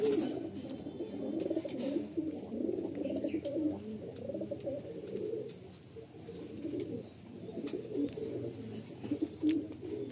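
Pigeons of the Ustad Tapan Saha bloodline keep up a steady chorus of soft, throaty coos, overlapping and close, with faint higher chirps now and then.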